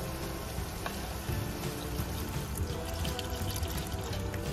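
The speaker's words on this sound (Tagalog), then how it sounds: "So, lalagyan natin ng tubig." Water pours into a pot of chicken tinola with papaya and moringa leaves already at a boil, a continuous splashing and bubbling rush that stays close and steady throughout.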